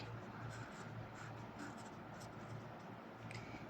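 Pen or marker steadily writing out a prime factorisation product in a maths lesson, a soft continuous scratching with faint ticks, close and low, no talking over it.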